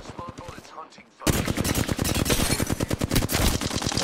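Gunfire aimed at the player in the video game Apex Legends, a dense, loud burst of rapid automatic shots that starts suddenly after a brief quiet stretch and keeps hammering to the end.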